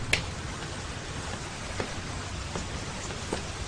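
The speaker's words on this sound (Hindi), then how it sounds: "फिर से बारिश शुरू हो गई।" Steady rain patters on surfaces, with a few louder drips and taps standing out against the continuous hiss.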